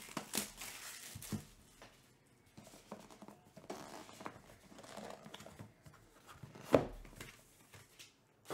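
Plastic wrapping on boxes of 2024 Topps Gilded Collection baseball cards is torn and crinkled in scattered bursts, fairly quiet and close, with one sharper crackle near the end.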